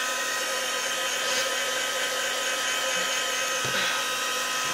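A hair dryer blows steadily on an air-dry clay plate with a leaf imprint, a continuous close whoosh that holds an even level throughout, with faint handling bumps under it.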